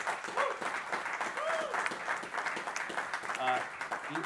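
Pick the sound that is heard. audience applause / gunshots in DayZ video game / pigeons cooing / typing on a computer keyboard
audience applause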